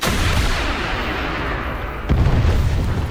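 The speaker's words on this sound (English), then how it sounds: "let's try now a missile" A missile launches and explodes in War Thunder, a dense, loud rumbling blast carrying on throughout, with a sharper second impact near the end.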